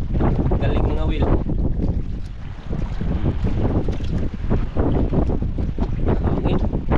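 Strong wind roars across a boat at sea, buffeting the microphone in heavy, uneven gusts with a constant rushing backdrop of air and water.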